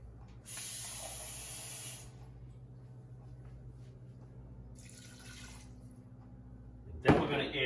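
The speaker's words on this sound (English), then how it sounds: "we have to put a little bit more water in" Water runs from a tap into a cooking pot of minestrone soup in two short bursts, a steady hiss in the first seconds and again briefly later, followed by a clatter near the end.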